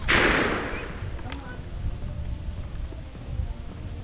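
A smoothbore gun goes off at an outdoor shooting range during a militaria shoot in Alberta, one loud report at the start that decays into a wide outdoor background with faint thumps.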